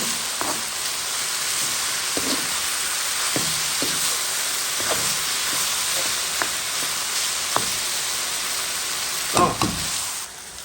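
Pork and vegetables sizzling in hot oil in a pan, a steady loud hiss throughout with occasional stirring clatters and scrapes of a utensil.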